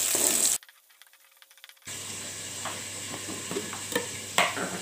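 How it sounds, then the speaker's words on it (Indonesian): Spice paste for yellow-spiced ribbonfish sizzles and hisses steadily in a frying pan, with a short quiet gap before the frying resumes and occasional crackles. "kita goreng atau kita tumis hingga benar-benar layu keluar aromanya"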